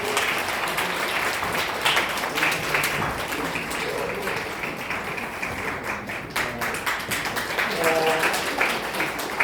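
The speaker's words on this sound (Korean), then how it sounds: "박수 부탁드립니다" An audience at a church gathering with a soprano recital claps through most of the stretch, steady and close, with voices murmuring beneath the applause and a few light taps standing out.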